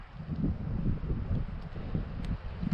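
Wind buffets the microphone at a campsite, a low rumbling roar with gusty swells and faint rustling throughout, no voices.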